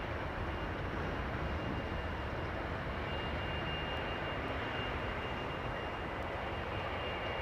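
Aircraft engines roar steadily at London Heathrow Airport, a distant, continuous broadband rumble with no voices.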